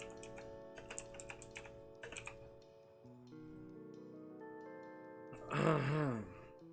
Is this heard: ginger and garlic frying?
no